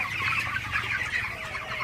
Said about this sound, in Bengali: এখানে 800 ব্রয়লার মুরগি আছে এই শেডে।